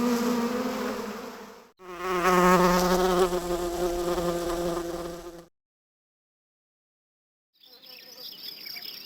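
Loud droning buzz of insects, steady and close, breaking briefly, resuming for a few seconds, then after silence a higher, thinner buzzing returns.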